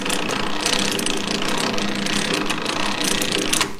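Lathe chuck jaws being tightened with a chuck key for gripping large-diameter workpieces, a loud continuous rapid ratcheting clatter with no pauses, close up.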